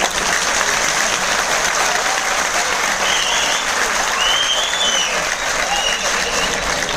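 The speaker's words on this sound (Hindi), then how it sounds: "कुछ लोग तो यूं तालियां बजा रहे, यहां से दिख रहा है" A scattered group in a hall claps continuously at a training session, a steady wash of handclaps heard alone without talk.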